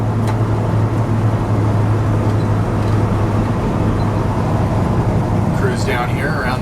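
A 1964 Chevrolet C-10 shortbed pickup truck drives along at a steady pace, its engine and road noise forming a continuous low rumble from inside the cab.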